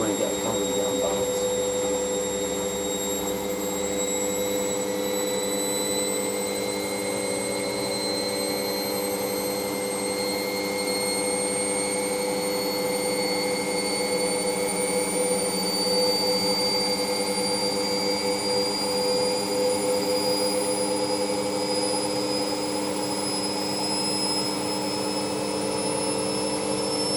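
Ariston Margherita A1635 washing machine on a 60°C fast coloureds programme, spinning up toward 1000 RPM: a steady, loud whine with rising tonal pitches over a constant motor hum, continuous throughout.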